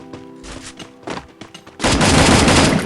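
Gunfire in the Free Fire video game: a few scattered shots early on, then a loud, dense burst of rapid fire that runs without a break to the end, with no talking.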